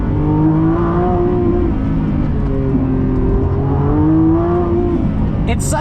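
A 1,000-horsepower Lamborghini Revuelto heard from inside while driving, its loud engine droning and rising and falling in pitch through the gears, with a voice talking over it.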